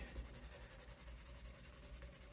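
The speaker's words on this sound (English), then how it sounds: "I'm going to hit it with some 1000 grit right now" A vintage 1970s Gibson Les Paul Custom fingerboard being sanded with 1000-grit sandpaper: faint, quick rhythmic back-and-forth rubbing strokes, close and alone.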